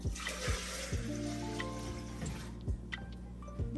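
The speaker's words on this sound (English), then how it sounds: "The lime juice, water, back inside of the blender" Lime juice and water pour steadily back into a blender with a continuous splashing gurgle and a few soft knocks, close by and moderately loud.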